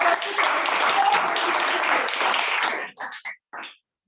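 Audience at a Toastmasters meeting breaks into a burst of applause, dense and steady for nearly three seconds, then thinning to a few last scattered claps before silence.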